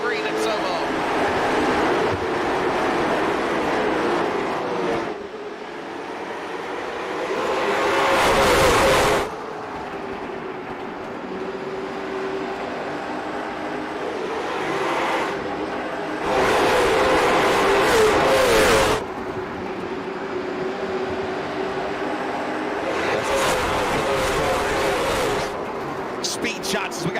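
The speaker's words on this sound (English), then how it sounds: "Let you hear the sights and sounds, the roar of the late models" Late model race cars roar around the track at the Red White and Blue 150, a steady loud engine drone with several louder surges as cars pass close, under continuous commentary.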